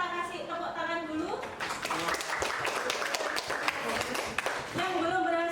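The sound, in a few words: applause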